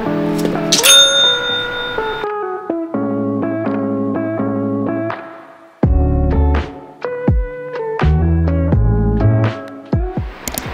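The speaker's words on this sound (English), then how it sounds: "Ring the bell." Bicycle-style bell chimes ring in bright melodic bursts, several rapid tinkling sequences with echoing tones separated by short gaps, loud and close with no talking.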